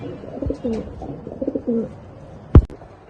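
Pigeons cooing nearby in soft, repeated low throaty notes, followed by a sharp knock near the end.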